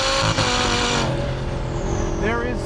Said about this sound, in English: the feeling of turbo boost building and that sound that you hear